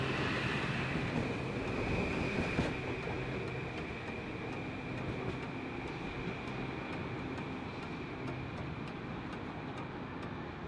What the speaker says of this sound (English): our train pulls out of the station to continue its journey up north to New Haven's Union Station.